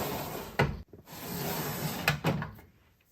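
A makeup drawer holding foundations is opened, giving a sharp wooden clunk followed a moment later by a quick double knock, with quiet room noise between the sounds.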